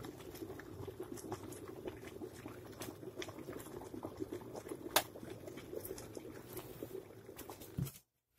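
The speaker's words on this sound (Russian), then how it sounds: "Чайник кипит" An electric kettle boiling with its lid firmly closed and failing to switch off, a continuous bubbling rumble and patter with a faint click partway, then abrupt silence at the end.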